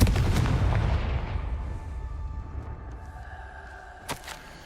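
Confringo fire spell bursting in Hogwarts Legacy: a single heavy blast that rolls away into a long fading rumble, followed by a couple of faint distant thuds.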